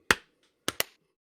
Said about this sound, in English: We'll just do the clap.